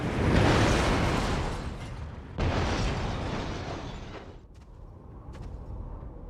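A plane explodes in the video game Syphon Filter: Dark Mirror: a loud, sustained roaring blast with a second booming surge midway, then a lower rumbling tail with faint metallic clinks.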